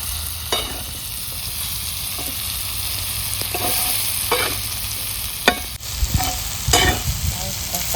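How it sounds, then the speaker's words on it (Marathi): Curry sizzles steadily in a pan while a spoon scrapes and stirs it in intermittent strokes, close up, with no voices. "आता हे चांगलं परतायचं"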